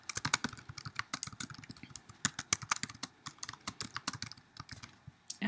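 A computer keyboard is typed on quickly and up close, rapid irregular key clicks in continuous bursts with no talking, while entering a new note in Salesforce software.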